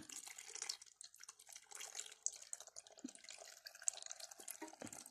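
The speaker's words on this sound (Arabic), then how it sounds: "نملاه بقى لغاية ما نوصل للاخر كده" Liquid is poured into a jar of carrot pickles, a faint steady trickle with small splashes and drips, close by and quiet.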